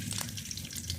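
Whole garam masala spices and whole dried chilies sizzle and crackle steadily in hot oil for a butter prawn dish, a faint, continuous frying hiss with small pops and no voices.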